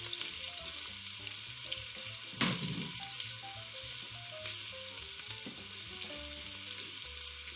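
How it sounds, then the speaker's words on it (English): A sliced Spanish onion sizzles steadily in vegetable oil in a pot on the stovetop, a soft, even fry with one clattering stir partway through and faint tonal background sounds. "I have a little bit of vegetable oil on the bottom, and I got one onion. I'm using a Spanish onion today."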